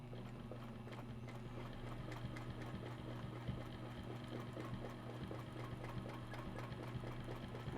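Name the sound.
sewing machine stitching fabric around a ruler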